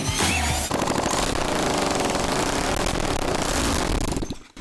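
A 2008 Honda CRF450R Works Edition replica dirt bike engine runs with no exhaust fitted, a very loud, harsh, rapid staccato bark that is close and sustained before cutting off at the end.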